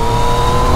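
Brief, loud, close roar of a Yamaha MT-09 motorcycle engine revving hard, a sustained raspy drone with no talking.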